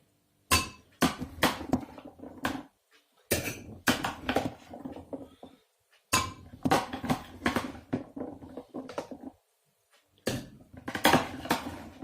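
Raw potatoes tumble into clay pots in repeated bursts, each pour a clattering run of hard knocks and clinks against the earthenware, separated by short quiet gaps.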